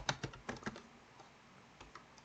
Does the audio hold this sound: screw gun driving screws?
no